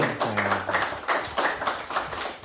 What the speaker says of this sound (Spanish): Por favor, un aplauso fuerte para el doctor